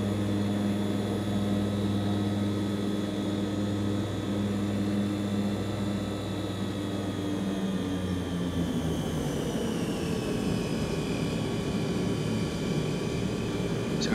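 A Hawker Siddeley HS 748 in a P3Dv4 flight simulator, its propeller engines droning steadily with a tonal hum and rising whine as the aircraft sits ready to taxi, continuous and even throughout.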